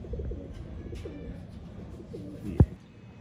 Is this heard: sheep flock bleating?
no